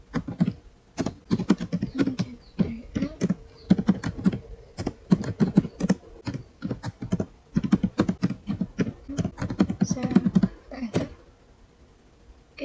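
Computer keyboard keys clatter in quick, close bursts of typing while an NFS server is configured on Linux, the presses running steadily for about eleven seconds before stopping.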